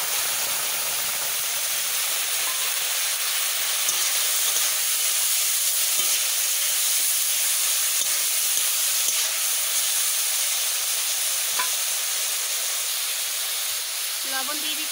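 Tomatoes sizzle in hot oil with mustard seeds in a pan, making a loud, steady, close hiss that runs unbroken throughout.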